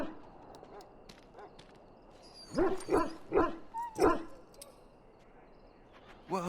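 An injured dog in a video game gives a quick cluster of four sharp barks and yelps over a quiet backdrop, with softer whimpering before and a final yip at the end.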